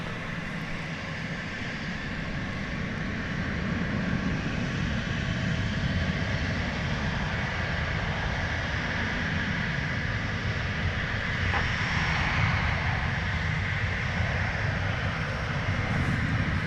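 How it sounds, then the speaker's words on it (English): An Aeromexico Embraer 190 jet takes off at Dallas Fort Worth airport, a sustained engine roar that builds slightly and stays loud and steady across the whole stretch, without talk. "Here goes that Aero Mexico Embraer 190 off to Mexico City."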